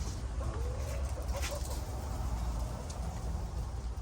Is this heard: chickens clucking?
yes